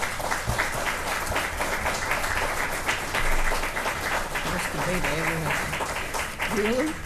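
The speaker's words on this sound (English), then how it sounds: "A round of applause for our first candidates." An audience at the Biddeford municipal debate of 2015 gives the candidates sustained, loud applause that carries on throughout, while voices talk and call out over the clapping toward the end.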